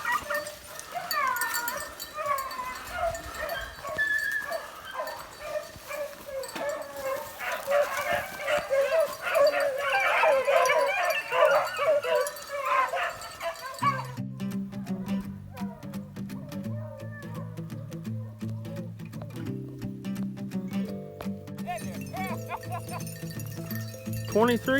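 A pack of 23 hounds bays and yips while running a rabbit track outdoors, a chorus of overlapping howls and barks, loud then fading, with people talking and a low engine hum later on.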